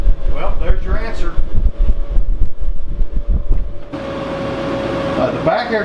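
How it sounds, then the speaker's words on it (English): Someone talks at first, then the steady hum of the rear air conditioner takes over. The unit runs in a homemade RV built from a 1977 Peterbilt 359 toterhome, droning evenly once the voice stops. "The back air conditioner is on. It's running."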